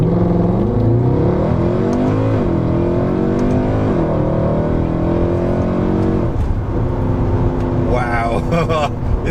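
A Mercedes C63 AMG coupe, high mileage, accelerating hard from 20 to 70 mph, engine note rising through the gears with distinct drops at each upshift, loud and close from inside the cabin, with a voice heard near the end.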